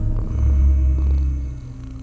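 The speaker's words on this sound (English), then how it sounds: "On the exhale, make a soft hum." A soft, steady closed-lip hum for meditation, low and continuous like a gentle purr, swelling slightly and then easing off, close and alone.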